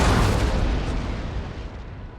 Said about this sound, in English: Some of the sounds on these cannons are really delayed sometimes.